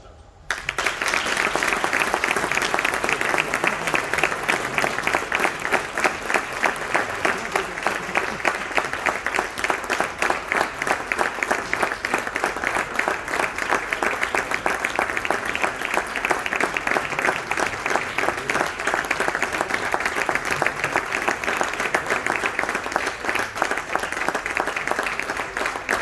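A crowd gives sustained, even applause at a gastronomy award ceremony, many hands clapping densely and loudly for the whole stretch without pause, filling the hall.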